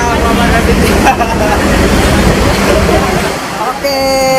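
Buses in a three-bus fleet stand in Padang, West Sumatra, ready to depart. Their engines make a loud, steady rumble that mixes with road noise and a crowd's babble, and a voice speaks over it.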